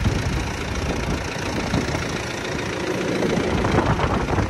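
A 5450 tractor's diesel engine, running hot while working muddy wheat ground, roars loud and close in a constant, rough drone with a heavy knocking rumble throughout.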